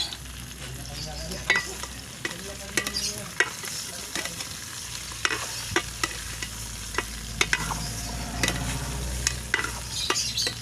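Native chicken sautéing in a pan over a wood fire, a continuous sizzle with frequent scraping and clinks of a stirring utensil, close and fairly loud, no talking.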